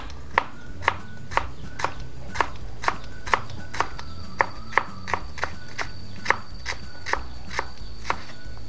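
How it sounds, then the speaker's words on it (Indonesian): Knife chopping shallots on a board in a home kitchen, about fifteen sharp, evenly spaced chops in a steady rhythm, close and clear over a low background hum. "Terus kita potong bawang merah."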